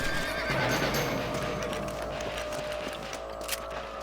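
Horse whinnying in the Red Dead Redemption video game, heard over a steady dense game ambience with faint hoof clatter, moderately loud and continuous throughout.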